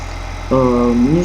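A tractor engine idles in Farming Simulator 2015 as a steady low drone, with a voice speaking over it for the second half.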